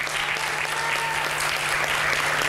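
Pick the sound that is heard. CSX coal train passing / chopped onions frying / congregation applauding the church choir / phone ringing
congregation applauding the church choir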